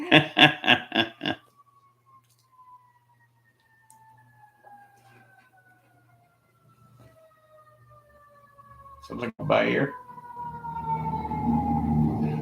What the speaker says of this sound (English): Every time a fire engine or an ambulance goes by on the way to the keg